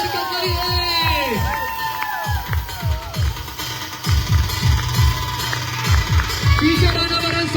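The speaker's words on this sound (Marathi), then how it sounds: "टाळ्या वाजवायला हरकत नाहीये." A crowd shouts and cheers with loud, overlapping voices at a trophy and T-shirt unveiling ceremony for a cricket tournament, a continuous lively roar with whoops rising and falling throughout.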